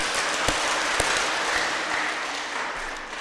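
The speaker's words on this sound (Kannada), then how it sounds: "ದಯವಿಟ್ಟು ಒಂದ್ಸತಿ ನಮ್ಮ ತಂದೆ ತಾಯಿಗಳಿಗೆ ಚಪ್ಪಾಳೆ ಹೊಡೆಯೋಣ." Audience of postgraduate students at an orientation programme applauding their parents, a steady round of clapping with a few sharp nearby claps, tapering slightly toward the end.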